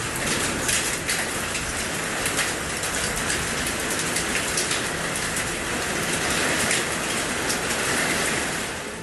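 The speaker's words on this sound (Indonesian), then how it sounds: "hujan disertai angin kencang menerjang sekitar 5 menit" Heavy rain driven by strong wind in a village in Bojonegoro, East Java, a loud continuous hiss and patter of downpour without pause.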